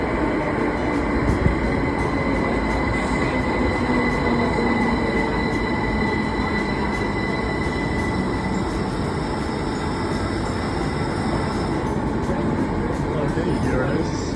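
The Heathrow Express rolls into the station platform with a continuous rumble of wheels and carriages, steady and fairly close, with a faint high squeal near the end and a few voices in the background.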